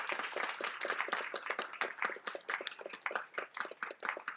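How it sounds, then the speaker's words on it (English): A conference audience at a farmers' union panel claps together in a dense, steady burst of many hands. It sounds thin and somewhat distant, with no voices. "everyone was applauding that"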